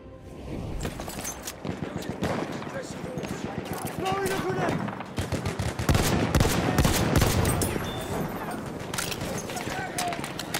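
Dense gunfire in the video game Battlefield 1, rapid overlapping shots and bursts close by that build into a heavier volley midway, with a player's voice occasionally under the shooting.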